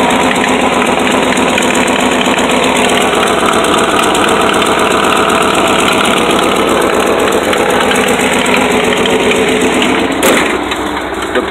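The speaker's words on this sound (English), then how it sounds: "Got the 390 V8, 4-barrel Holley carb, nothing special done to it." A Ford 390 V8 with a 4-barrel Holley carburetor in a 1979 Ford F-350 dump truck idles steadily up close, a rough, throbbing rumble with a faint rattling edge and no talking. Its exhaust manifold gaskets need replacing.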